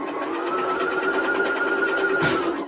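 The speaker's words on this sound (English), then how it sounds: "So we're going to sew that together." A sewing machine stitches quilt blocks with red thread, a steady continuous whirring drone with a fast repetitive needle pulse, close and even throughout.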